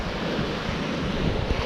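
Ocean surf rolling onto Old Orchard Beach at night, a steady broadband wash of breaking waves mixed with wind rumble on the microphone, continuous and fairly loud with no voices.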